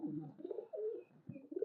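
Domestic pigeons, a pair with their young in a loft, coo in low throaty rolling phrases close by, two or three bursts across under two seconds with no voices.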